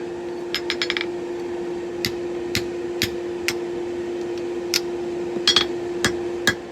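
A hammer drives a 3/4 inch sizing drift through a hot railroad spike to widen the punched hole while forging a bottle opener. Sharp, irregular metallic strikes ring out one at a time over a steady background hum, with no talking.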